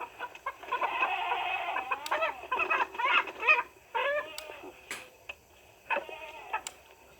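Several hens cluck in bursts at a village poultry market in Morocco, short calls coming in rough clusters with pauses between them, moderately close and with no talk over them.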